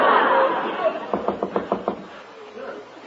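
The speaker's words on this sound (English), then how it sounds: "I'll knock on her door" Six quick, evenly spaced raps on a door, close and clear, follow a stretch of voices and laughter, with faint talk afterward.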